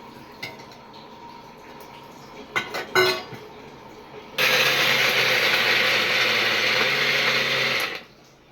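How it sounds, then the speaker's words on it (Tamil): Roasted coconut and masala for kurma grind in a mixer grinder, a loud steady whirring roar running for about four seconds after a few brief clinks and bumps of setting up, then cutting off. "எல்லாத்தையும் போட்டு தேங்காய் எல்லாத்தையும் போட்டு அரைச்சிக்கணும்"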